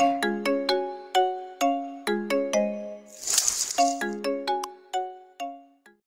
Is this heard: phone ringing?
yes